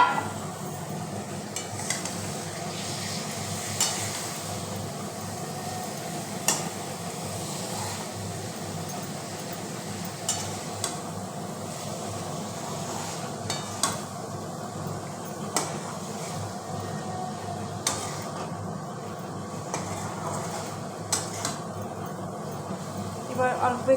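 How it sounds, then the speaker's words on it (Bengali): Dried lotte fish and vegetables frying in a pan with steady sizzling, occasional sharp clinks and scrapes of a spatula stirring against the pan, continuous at moderate volume. "এবার ভাজা ভাজা করবো, করে সবজিগুলোকে দিয়ে দেবো, ড্রাই ফিশগুলোকে দিয়ে দেবো ভাজা ভাজা করে।"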